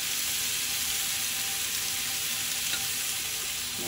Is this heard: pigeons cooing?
no